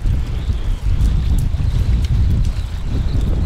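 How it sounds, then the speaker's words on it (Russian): Strong, continuous wind roars and buffets the microphone at a fishing spot on the Amur River, a loud low rumble that barely lets up. "Ветер никак не прекратится."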